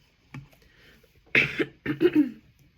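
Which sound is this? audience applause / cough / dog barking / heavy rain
cough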